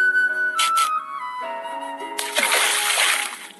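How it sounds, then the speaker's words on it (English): Water splashing and sloshing into a bucket in a children's bedtime story animation, a bright rushing pour that follows a few tonal chimes and short musical notes. "Tap the bucket to fill it up."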